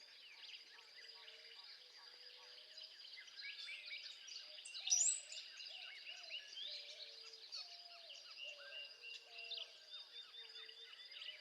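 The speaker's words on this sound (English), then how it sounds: "Let's listen one last time to the 5-striped sparrow." Five-striped sparrow singing in a southeastern Arizona canyon, a string of short sweet phrases at moderate distance, repeated steadily over a bed of other bird calls and insect buzz.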